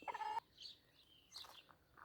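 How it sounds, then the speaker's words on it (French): A rooster in a garden gives a brief, faint call, followed by quieter scattered bird sounds in the background. "Et le coq est là, Hector, monsieur Hector."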